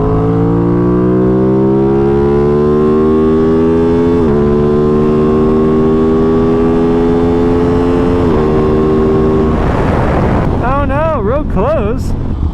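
A 2021 Aprilia RS660 motorcycle engine drones loudly while riding, its pitch climbing through gears in rising sweeps with brief dips at shifts, under heavy wind rush, ending in a wavering rev.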